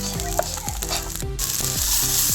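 Close sizzling of onion and turmeric in a hot pan, with repeated scraping strokes as the contents are stirred in a steady rhythm.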